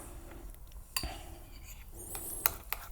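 A utensil stirs through a salted mixture in a bowl, giving a few light, scattered clinks against the sides under a quiet room hush.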